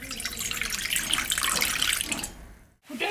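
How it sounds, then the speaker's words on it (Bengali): Water splashing and pouring steadily into a pot while making kuli pitha, a close continuous gush that cuts off abruptly near the end. "সামান্য একটু জল দেব।"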